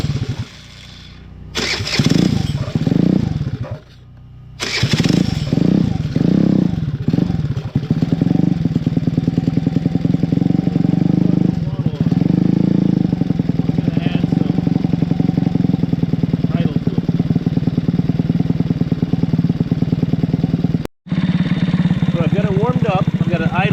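A 50cc 139QMB scooter engine fitted with a 21mm PWK flat slide carburetor idles steadily with a rapid putter after a few stuttering start attempts, loud and close, with a brief cut near the end.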